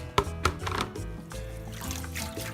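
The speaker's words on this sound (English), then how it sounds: "Since the noodles is ready, I'm gonna drain the water out." Hot water pours off cooked noodles into a strainer, making a steady splashing gush with a few sharp clanks at the start and a continuous rushing trickle after, close and moderately loud with no talking.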